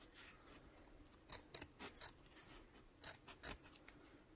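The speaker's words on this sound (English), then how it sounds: "Then I take scissors up against this and trim off" Scissors snip along the edge of a homemade N95-type fabric mask, a few short crisp cuts in two quiet clusters with pauses between, close and faint with no talking.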